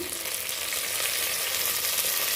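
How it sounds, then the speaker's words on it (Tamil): Onions sizzle and fry steadily in a hot pan, a constant crackling hiss with no talking. "இந்த வெங்காயம் நல்லா வதங்கட்டும்"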